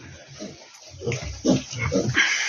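A domestic pig on a farm grunts and snuffles close by, a rapid series of short, rough, loud grunts that grow busier toward the end.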